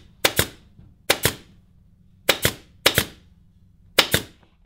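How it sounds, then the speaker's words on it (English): A staple gun fires sharp, loud snaps fixing woven fabric strips to an open wooden chair frame, about six shots in uneven pairs and singles, each with a brief ring, and no talking. "I'm going to put under the middle and staple it to the frame"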